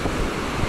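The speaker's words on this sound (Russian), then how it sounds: "Ветер." Steady wind buffets the microphone beside the sea at Alanya on a cool January day, with waves and surf rumbling underneath in a continuous close roar.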